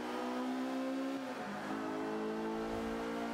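A race car accelerates in Forza Motorsport 5 at Silverstone on Xbox One. The engine drones loud and close, with a steady harmonic whine that shifts pitch partway through, like a gear change, and no voices.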